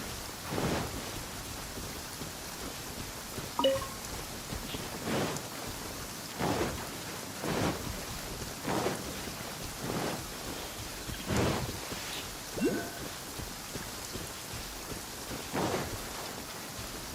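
Steady rain in Genshin Impact with repeated thunder rumbles and cracks spread across the scene, the downpour constant and fairly loud.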